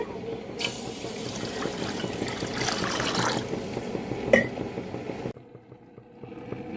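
Water is poured from a vessel into soaked rice to be boiled, a steady close splashing trickle that runs for several seconds and then stops abruptly, with no talk.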